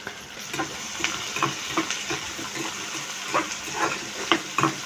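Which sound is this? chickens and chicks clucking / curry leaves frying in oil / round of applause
curry leaves frying in oil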